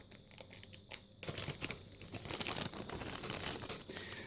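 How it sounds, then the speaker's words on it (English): Crinkly plastic wrapping is pulled and torn off a Vodafone R207 mobile Wi-Fi battery, a close, continuous rustle that grows louder and busier after the first second. "I'm going to unwrap the battery."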